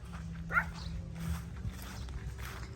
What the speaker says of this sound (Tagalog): Ay, tuta, inaaway ako.